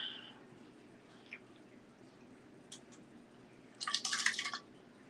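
Liquor is poured into a shot glass at home, a short bright splash and trickle near the end after some faint clinks and drips against quiet room noise.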